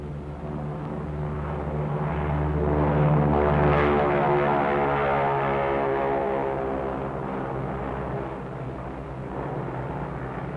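A B-29 bomber, Dave's Dream, flying toward the Bikini atoll target with escort planes, gives a steady droning propeller engine roar that swells slightly and then eases.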